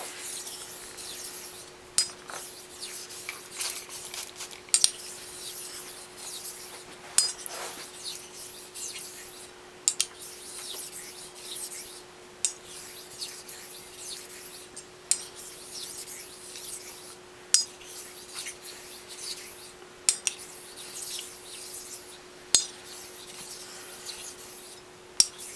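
A steel straight razor blade is honed on a sharpening stone, giving a quiet, close scraping and rubbing with regular strokes and sharp little ticks at each turn of the blade, over a faint steady hum, with no speech.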